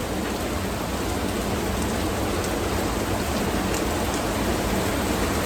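A downpour roars continuously in a public park, a thick, even wash of rain hitting surfaces with occasional sharper drops.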